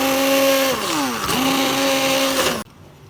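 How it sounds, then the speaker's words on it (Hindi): An electric blender whirs loudly as it purees tomato and onion masala for chicken curry, its motor pitch dipping and rising briefly before cutting off abruptly. "इसीलिए इसको मैं ब्लेंड कर लूँगी।"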